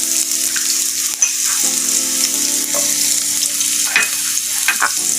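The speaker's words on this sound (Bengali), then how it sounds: "তেলটা গরম হয়ে যাওয়ার পর এতে আমি অ্যাড করে দিব পরিমাণ মতো পেঁয়াজ কুচি, আর কুচি করে মিহি করে কাটা রসুন কুচি" Chopped onion and minced garlic fry in hot oil for dal puri, a steady close sizzle with occasional soft scrapes of a stirring spoon and no talking.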